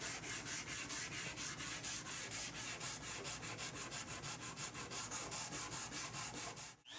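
Steady back-and-forth sanding of a curly koa wood media stand, with rapid, even rasping strokes that are loud and close and continue almost unbroken until a brief stop near the end.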